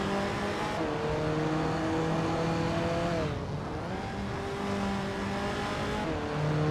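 1967 Russell Alexis Formula Ford race cars racing, engines droning steadily and shifting pitch as they rev and change gear, loud and continuous with several cars overlapping.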